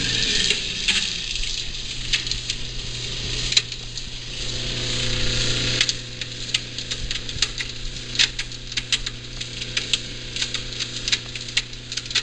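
A faucet runs in the guest bathroom of a Dallas, Texas house under home inspection, giving a steady close hiss of flowing water with small ticking clicks and a low hum throughout.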